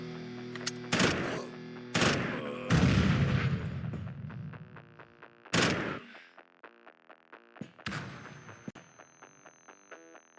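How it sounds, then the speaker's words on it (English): Grenade explosions and gunfire in the tactical game Quasimorph: several loud, sharp blasts spaced a second or two apart, each with a decaying tail, followed by a run of lighter rapid shots. "I'm just gonna lob in this grenade just to make everything a bit worse."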